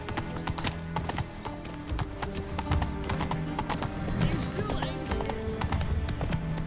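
Hooves of the horse Roach clip-clopping steadily in the video game The Witcher 3, a continuous galloping rhythm under game music and ambience, with a brief whinny.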